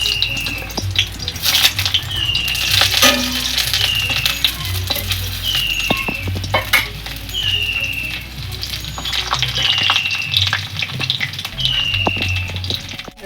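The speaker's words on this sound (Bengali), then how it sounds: "এবার পটলগুলো কড়ার মধ্যে দিয়ে এবার ভেজে নেব।" Pointed gourds stuffed with katla fish frying in oil in a wok, a loud, busy sizzle with crackles, repeated metal spatula scrapes and clinks, and some high chirping sounds nearby, with no talk.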